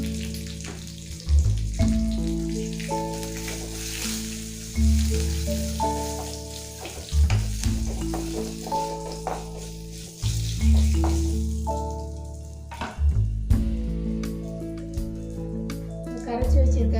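Oil sizzles and crackles steadily as dried red chili and curry leaves fry for thoothuvalai rasam tempering, with clinks of stirring and a voice talking over it.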